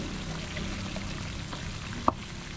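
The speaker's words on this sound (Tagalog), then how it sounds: "mas maganda po mga kaputi kung hindi super crispy yung ating pagkakapirito sa ating bangus" Bangus milkfish fries in hot oil with a soft, steady sizzle and crackle, fairly faint, broken once by a brief sharp pop of spattering oil.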